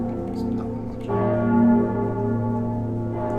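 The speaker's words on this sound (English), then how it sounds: "The bell's ringing." A deep, resonant bell tolls in the video game Dark Souls 3, its sustained ringing hum layered with overtones and a fresh strike about a second in, sounding alone without speech.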